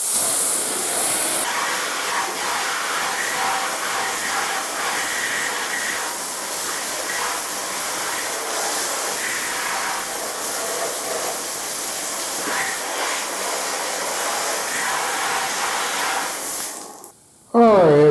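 Compressed air blasts steadily across a car headlight to dry it after washing, a loud continuous hiss close up that holds for about seventeen seconds with small wavering changes before briefly stopping and resuming.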